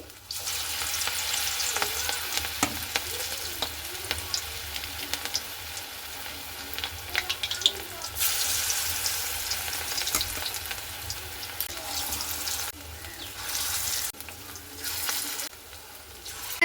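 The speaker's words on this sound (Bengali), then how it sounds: "তো এগুলোকে গ্যাসের আঁচ কমিয়ে কমিয়ে কিন্তু ভাজতে হবে" Raw potato pakora balls frying steadily in oil over a low gas flame, a continuous soft sizzle and crackle that swells and fades, close and alone with no talking.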